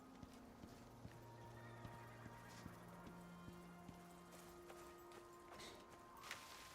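Horses in the survival video game Icarus clop along with light, irregular hoofbeats, their whinnies and neighs drawn out as tonal calls over a quiet background.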